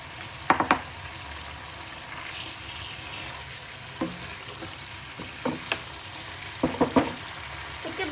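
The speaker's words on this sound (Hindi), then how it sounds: "साथ में ही भुनेगा ये भी।" Beef and garlic fry in a pot with a quiet, steady sizzle, broken by a few sharp clinks and scrapes of stirring, heard close without talk.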